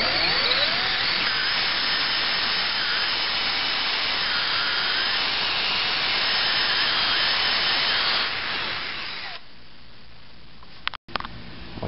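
A drill bores through a Z50R motorcycle engine case, a steady whirring, grinding drone that runs for about nine seconds before stopping, followed by quiet and a couple of brief clicks.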